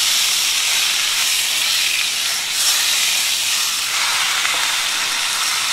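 Steaks sear in a hot skillet with a loud, constant, close hiss and sizzle of fat that barely varies throughout, and no talking over it.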